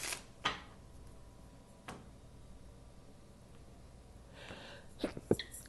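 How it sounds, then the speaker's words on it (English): A quiet sneeze in a calm indoor room, with a sharp burst near the start, another short one later and a few faint rustles and clicks at the end. "Excuse me, I had a little sneeze."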